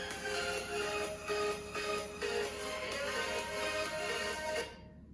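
A song plays through the small built-in speaker of a portable disco light. The music is thin and tinny with steady beats, continuous for most of the clip, and cuts off just before the end.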